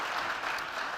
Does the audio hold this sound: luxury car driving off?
no